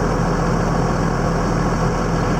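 A heavy tractor engine idles steadily and loudly nearby, a constant low rumbling drone with no change in pace.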